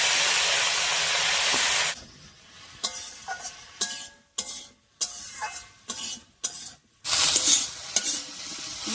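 Cut eggplant goes into a pan of potatoes frying in hot oil, bursting into a loud hissing sizzle, then a spatula stirs with scraping strokes before the sizzle swells again.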